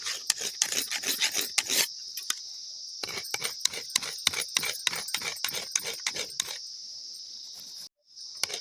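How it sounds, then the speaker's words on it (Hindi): A sickle blade is rubbed back and forth on a sharpening stone in quick, rasping strokes, first in a fast burst, then in a steady series, over a constant high-pitched hiss in the background. "तो मैं दराती पे धार लगा रही हूँ, ऐसे पत्थर पे घिसना पड़ता है।"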